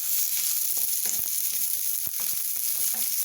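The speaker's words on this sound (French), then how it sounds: "On tourne l'oignon." An onion sizzles and fries in a pan while being stirred for a sautéed sorrel and tinned sardine dish, giving a steady crackling hiss broken by soft scraping clicks, close up with no talk.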